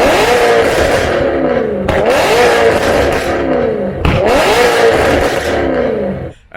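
A BMW M3 with a Toyo Sports straight X-pipe and no cats or resonators revs hard, three loud rising-and-falling engine sweeps with a raspy, crackling edge, close up and alone before cutting off.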